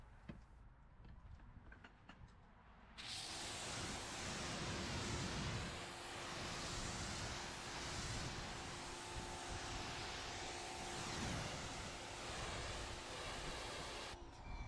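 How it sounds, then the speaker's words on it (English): Water hose rinsing a car panel after misting Turtle Wax spray, a loud continuous broadband splashing hiss that starts abruptly after a few quieter seconds and runs steadily, close by. "mist the product onto the panel while it is still wet, and immediately rinse it off"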